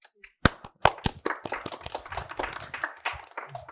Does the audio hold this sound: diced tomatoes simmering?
no